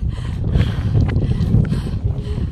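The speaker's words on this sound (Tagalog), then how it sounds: "Ang lakas ng hangin." Loud, blustery wind buffeting the microphone on the cliff walk at First peak, Switzerland, with a constant low roar and gusty surges, no voices.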